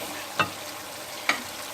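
Potatoes, three to four of them, tipped into a hot pan for an aloo matar gobi sabzi, giving two short, sharp clattering bursts over a low, steady frying hiss.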